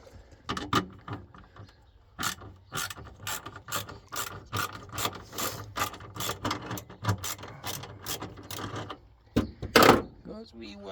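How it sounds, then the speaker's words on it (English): A tool loosens linkages during a strip-down, giving a string of sharp, evenly repeated ratchet clicks that run steadily for several seconds, close up and fairly loud, then break off into a few louder clunks at the end. "Just need to get rid of these linkages. I can actually loosen them up again."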